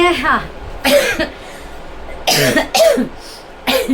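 Several harsh coughs come close up in separate bursts, with short quiet gaps between them.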